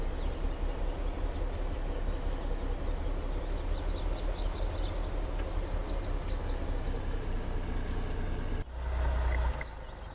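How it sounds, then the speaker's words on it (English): A mining truck in Farming Simulator 19 drives with a steady, loud diesel engine rumble, high chirping tones in the middle, and a brief burst of heavier noise near the end. "Alright, let's drive this truck right out of the way here."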